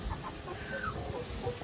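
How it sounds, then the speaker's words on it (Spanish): Soft clucking from a flock of ornamental hens at dusk, low and continuous over a steady outdoor hiss. "tengo gallinas ornamentales, un montón de gallinas ornamentales"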